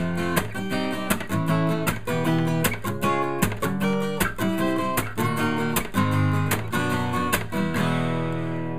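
Strummed guitar barre chords ring out in a steady rhythm, the chord shapes stepping up and then back down, loud and close with no voices.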